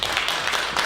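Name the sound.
audience applause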